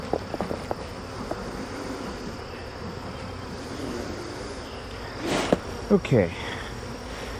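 Honey bees drone steadily around an opened hive under smoke during swarm control, a thick, even insect hum with a few louder close passes near the end and one brief spoken word.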